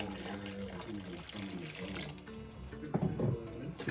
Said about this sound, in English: Gonna add the water.